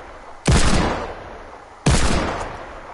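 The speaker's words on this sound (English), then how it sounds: "Wait, who's shooting?" Two heavy, booming gunshots in a video game, about a second and a half apart, each hitting hard and then trailing off into a long rumbling decay, with no voices over them.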